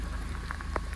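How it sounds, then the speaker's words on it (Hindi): Steady rain falls on a jungle at night in Jim Corbett, a dense, even patter of drops close by with a few louder individual drips standing out, and no voices. "बाहर तो नहीं निकलूँगा, बारिश लगी हुई है"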